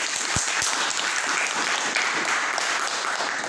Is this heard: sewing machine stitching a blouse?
no